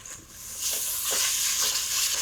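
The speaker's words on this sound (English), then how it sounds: "And just that little sizzle at the frying." A soft, steady sizzle of mushrooms frying in a pan, with faint crackles rising and falling.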